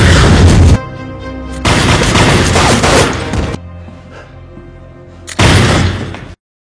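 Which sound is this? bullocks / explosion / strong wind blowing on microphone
explosion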